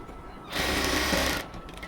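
A sewing machine stitches elastic onto a cotton palazzo in a single close, loud burst just under a second long, with low background noise before and after.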